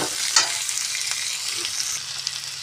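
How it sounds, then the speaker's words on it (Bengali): Potatoes frying in oil with garlic give a steady, close sizzle, broken by a few light clinks and scrapes of stirring. "আলুটাও তেলের সঙ্গে একটু হালকা লাল করে ভেজে নেব।"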